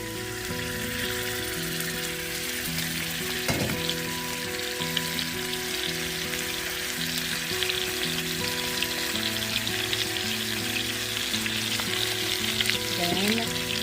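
Browned pork ribs sizzle steadily in a frying pan for Caribbean-style Jamaican ribs, a continuous close crackling hiss with soft background music tones running underneath.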